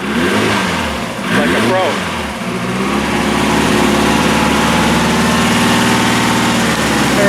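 Engine of a 1960 Triumph TR3A classic car, revved in repeated swells with the throttle worked by hand, then settling into a loud, steady idle close by, with someone speaking briefly over it.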